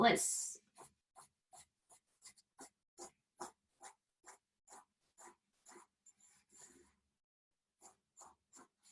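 A pen or pencil drawing on paper during a comic book workshop: close, quiet scratchy strokes in short rhythmic bursts with brief pauses, after an opening rustle, alone without talk.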